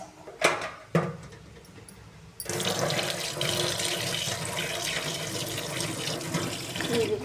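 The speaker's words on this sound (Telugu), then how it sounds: "ఈ విధంగా వాష్ చేసేసుకొని, ఎందుకంటే ఇది మట్టిలో పెరుగుతుంది కదా, డస్ట్ ఉంటుంది కాబట్టి మనం కడుక్కోవాలండి" Tap water runs into a sink while fresh coriander and mint leaves are rinsed, with a couple of light knocks first, then a steady close splashing stream that continues to the end.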